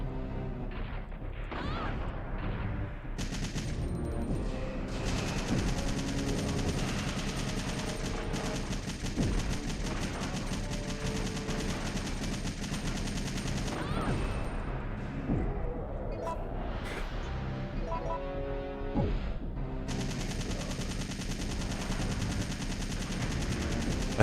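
Enemy gunfire rattles in Resident Evil 3: Nemesis as rounds strike walls and corners, a steady stream of sharp shots over game music and ambience, continuous and fairly loud throughout.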